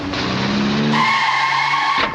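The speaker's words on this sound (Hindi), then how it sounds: "अरे गाड़ी क्यों रोकी?" A car skids to a stop in a movie scene, giving a loud, close tire squeal with a sustained screech that shifts pitch midway and then cuts off.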